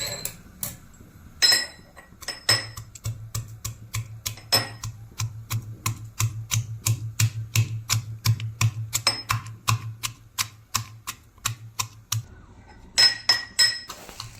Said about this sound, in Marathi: तर आता हे आवळे थोडेसे ठेसून घ्यायचे आहेत व्यवस्थित।